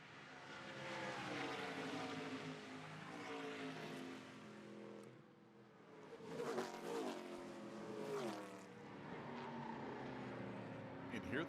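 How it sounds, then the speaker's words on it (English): Race cars in an ARCA Menards Series West race at Portland International Raceway, engines roaring steadily at close range, with tires chirping as a car dives into the corners and the pitch rising and falling as cars pass. "You can hear those tires chirping on Cole Moore's car as he dives off into these corners."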